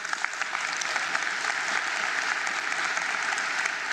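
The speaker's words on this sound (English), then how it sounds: "A round of applause for Owe too." Sustained audience applause for an award winner at a national school results announcement, a dense, even wash of many hands clapping throughout, with no pauses.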